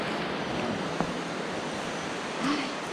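Rio Claro in Antioquia, Colombia runs over a marble bed, giving a steady, close rushing wash of water with a faint breath of wind.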